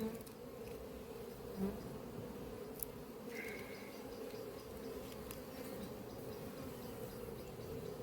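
Honey bees buzz steadily around an open hive in an apiary during an inspection, a continuous low drone with a few louder passes close by, no talking.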